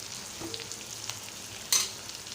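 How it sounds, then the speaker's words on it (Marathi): A spice mixture sizzles in hot oil for a Malvani-style jackfruit curry, a steady close frying hiss with light stirring and a sharp scrape near the end. "मिश्रण एक करणार आहोत आणि तेलात थोडा वेळ फ्राय करू देणार आहोत म्हणजे तेलात भाजू देणार आहोत"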